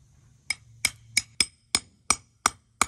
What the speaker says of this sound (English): Changes tone, the hammer bounces right off of it.